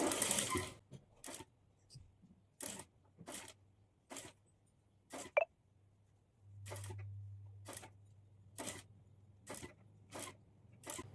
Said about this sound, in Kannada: ಹಾಫ್ ಇಂಚ್ ಕ್ಲಾತನ್ನು ಫೋಲ್ಡ್ ಮಾಡಿ ಫ್ರಿಲ್ಸನ್ನು ಸ್ಟಿಚ್ ಮಾಡ್ಕೊಳ್ಳಿ